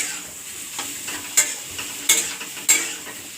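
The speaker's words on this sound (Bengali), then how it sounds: "গিমা শাক দেওয়া হলো, গিমা শাক দিচ্ছে, গিমা শাক ভাজছে" Gima greens, a leafy vegetable, fry in a pan with a steady bright sizzle, broken by three or four sharp scraping clacks of stirring spaced about a second apart, close and with no voices.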